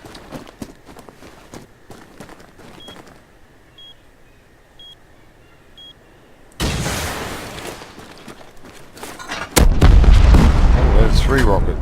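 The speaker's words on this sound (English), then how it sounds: "4 rockets and it takes down a Bradley" Rockets slam into a Bradley armoured vehicle in the game Rust, with beeping, gunfire crackle, and heavy loud explosive blasts and rumbling impacts building toward the end.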